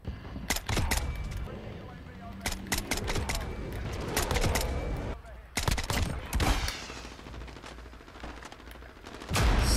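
Repeated bursts of SKS rifle fire in Modern Warfare, sharp loud shots in quick clusters with gaps between volleys, mixed with other game effects and a voice talking over parts of it.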